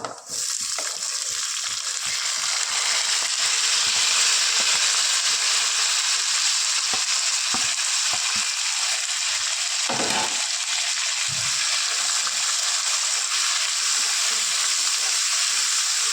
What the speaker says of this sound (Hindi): मसाला फ्राई कर दो।